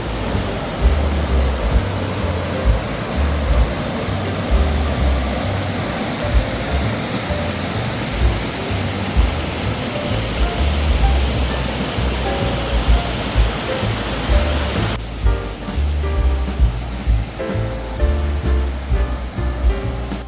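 Rushing water from a stream on the Himalayan Valley of Flowers trek, a steady, loud broadband roar running throughout, close by, becoming slightly thinner and more uneven in the last few seconds.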